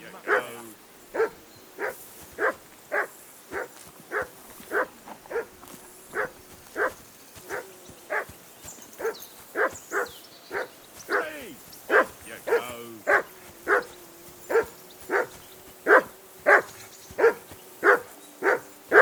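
Dogs barking in the medieval game Kingdom Come: Deliverance II, a steady run of about two dozen sharp barks at a regular rhythm, fairly close, with faint talk in the background.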